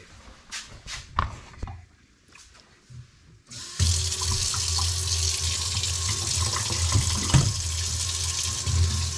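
Tap water runs into a sink to rinse out a container. A few clinks and handling noises come first, then a steady loud gush of water takes over and keeps running to the end.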